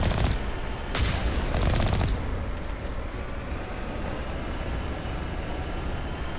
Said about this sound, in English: I'm shooting Geth up in here